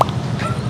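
A puppy, one of several stray dogs in a new house garden, gives a brief close yip right at the start, followed by low background rumble.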